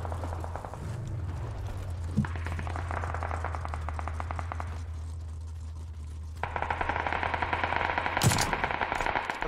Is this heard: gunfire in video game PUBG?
yes